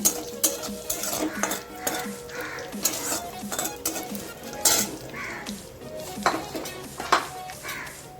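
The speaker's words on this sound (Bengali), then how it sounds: "ফোড়নটা প্রথমে খুব ভালো মতো করে ভেজে নিচ্ছি।" Black cumin seeds and three broken dried red chillies frying as a tempering in hot oil, with a soft steady sizzle under repeated clinks and scrapes of a utensil stirring in the pan, close by and without speech.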